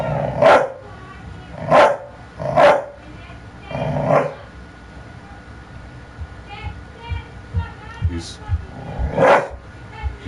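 Several loud dog barks in quick succession at the start, then quieter barking and low growling with background voices talking indoors.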